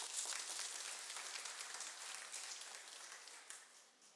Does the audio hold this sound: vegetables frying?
no